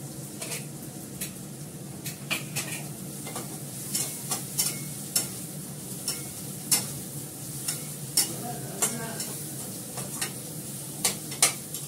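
Onion and garlic with ginger paste fry in a pan, a steady close sizzle running under regular scraping stirs and light utensil taps against the metal.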